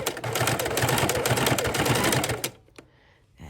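A sewing machine runs steadily as it stitches binding onto a quilt, a dense rapid mechanical chatter lasting about two and a half seconds before stopping, leaving quiet with faint handling sounds.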